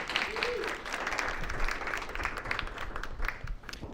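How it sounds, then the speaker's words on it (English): A crowd at a Texas hemp candidate forum applauds for several seconds, a full, steady patter of many hands with a few voices mixed in, thinning slightly near the end. "give them a round of applause"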